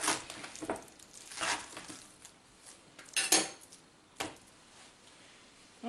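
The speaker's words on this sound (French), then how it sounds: "une fois que vos pommes de terre sont bien fondantes, on peut donc les presser pour les rendre en purée" Cooked sweet potatoes are pressed into purée in a pot, giving a few scattered clanks and soft metallic scrapes of a utensil against the pot, separated by quiet pauses.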